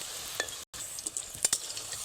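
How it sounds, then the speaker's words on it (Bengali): Nimki pastries fry in oil over medium heat with a faint, even hiss broken by scattered crackles and small pops, close but quiet, with one brief silent gap. "প্রথমে এগুলো ভেজে নিই। মিডিয়াম আছে একটু লালচে করে ভাজতে হবে"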